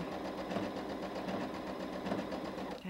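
A sewing machine runs a zigzag blind stitch with a blind stitch foot fitted, giving a steady, close mechanical whirring hum with an even rapid rhythm throughout.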